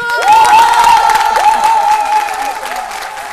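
Studio audience applauding on a midday television show, a loud, dense wash of clapping with a sustained whistle-like tone running through it, gradually easing off over a few seconds.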